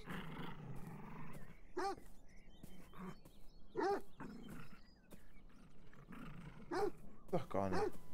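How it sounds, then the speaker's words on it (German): A dog in the video game Beyond Eyes barks and growls in loud, gruff bursts spaced a second or so apart, with a low rumbling background, and a person talks over it. "Der Hund ist alleine? Aber bellt nur"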